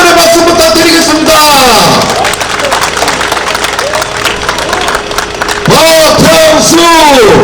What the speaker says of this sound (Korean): 우리 지역구 박영선님께도 여러분 큰 응원의 박수 부탁드리겠습니다